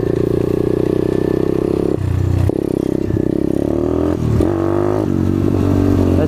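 Apollo RFZ pit/dirt bike engine running with the choke open, a loud, steady droning idle with pitch shifts and brief revs, close to the listener throughout.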